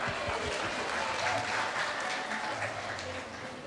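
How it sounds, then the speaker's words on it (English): An audience at a teacher convention session gives a steady round of applause, a dense, continuous wash of many hands clapping at moderate volume that fades slightly toward the end. "Let's give them a round of applause."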